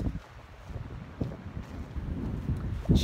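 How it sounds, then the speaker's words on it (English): Steady wind buffets the microphone, a low rumbling roar that swells and gusts, louder toward the end. "It's just really windy."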